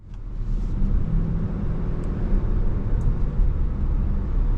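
A 2026 Toyota Crown Nightshade on the road, its cabin filled with a steady, loud low rumble of engine and tire noise that holds evenly throughout, with no voices.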